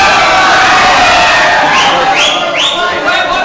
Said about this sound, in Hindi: तालियां तालियां होनी चाहिए आप सभी लोगों की, जोरदार तालियां होनी चाहिए